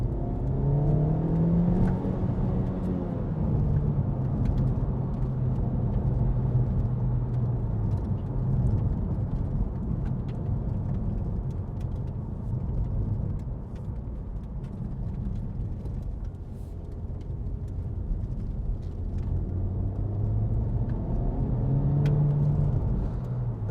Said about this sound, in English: Nice straight bit of road here. I'll just give it some gas.